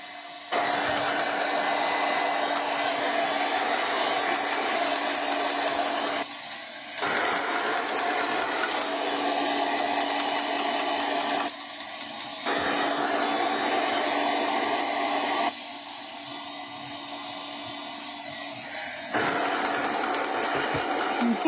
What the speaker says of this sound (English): I do need to hit this with just a quick burst of heat to dry this.